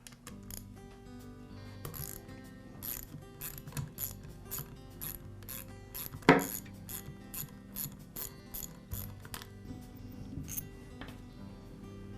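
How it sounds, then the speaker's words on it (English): A ratchet loosens the head bolts on a Porter Cable air compressor pump, with close, repeated clicking pawl bursts, one sharp metallic clank midway, and no talking. "the next step is to remove the head bolts."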